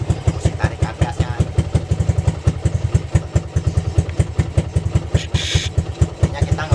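A motorcycle engine being worked on by a village mechanic before a bore-up chugs at a steady, even idle, its close, loud pulses repeating rhythmically throughout with no talk over it.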